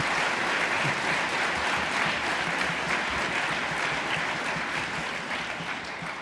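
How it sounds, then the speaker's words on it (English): An audience at a leadership conference applauds after a panel conversation, steady, dense clapping that holds for several seconds and eases slightly at the end. "can we all please show again a massive round of applause and appreciation for the thought-provoking conversation"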